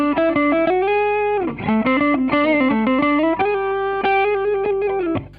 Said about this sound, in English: But you can really hear it's distorting as well.